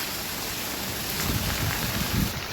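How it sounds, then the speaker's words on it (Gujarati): Steady broadband rain hiss with low rumbling gusts that swell toward the end, heavy rain driven by wind in Gujarat. "વરસાદ અને સાથે પવન એટલો છે ભાઈ કઈ વાત ના પૂછો"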